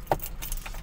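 Car keys for a diesel engine vehicle jangle close by in a brief burst of bright metallic jingling, with no talk over it.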